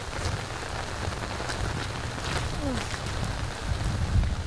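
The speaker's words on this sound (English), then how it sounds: "here you hear the rain coming in" Rain moves in over a disc golf course during the final round of a tournament. It makes a steady, loud hiss of drops hitting surfaces, with low rumbling underneath and no talking.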